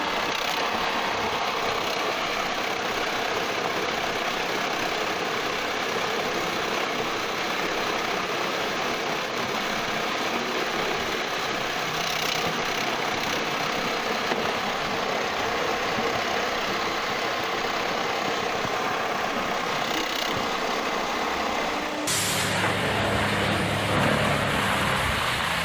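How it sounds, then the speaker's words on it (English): Morbark 4036 wood chipper with a deep Cat diesel engine runs continuously, a loud, steady drone without speech, with a sudden change in tone just past the twenty-second mark. "Then the Morbark 4036 comes in with that deep cat engine sound"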